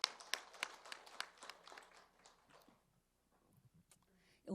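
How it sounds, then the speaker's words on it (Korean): A church congregation claps in praise after worship singing, a quiet, brief burst of uneven hand claps for about two seconds that thins out into near silence, followed by faint soft noises. "하나님께 영광의 박수 올려드립니다"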